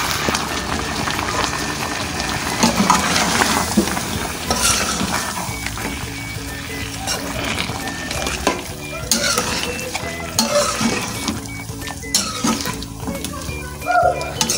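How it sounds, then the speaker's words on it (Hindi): Chicken is stirred in a pan with half a cup of yogurt, producing steady scraping, stirring and sizzling sounds with irregular clatter for about fifteen seconds and no talking. "इसमें हम डालेंगे हाफ कप दही और इसे हम मिक्स कर लेंगे।"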